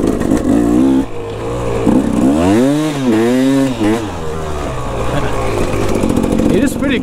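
KTM motorcycle engine running steadily at close range, rising and falling in pitch as it revs, with a constant buzzing drone throughout.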